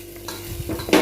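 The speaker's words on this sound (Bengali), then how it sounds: "এই দেখো একদম লাল লাল করে ভাজা লইছি" Chicken meat frying and being stirred in a pan while cooking chicken godok with bamboo shoots, with close scraping and sizzling that swells into a louder burst of stirring near the end.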